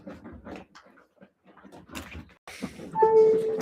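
A dog whimpers and whines in short, thin cries near the end, mixed with soft rustling movement and a person talking close by.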